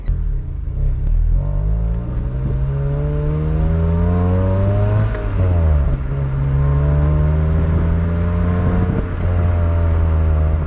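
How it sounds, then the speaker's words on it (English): Toyota Corolla T Sport driving on the road, its engine droning steadily with rising and falling revs through gear changes, heard close and loud from inside the car with no talking. "Tom's going to take us out for a quick spin in this Corolla"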